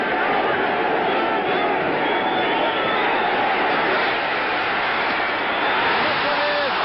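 A football stadium crowd roars steadily on a third down as the Dallas Cowboys face the Eagles in 1977, a thick, continuous wash of cheering and babble heard from afar with little change in level.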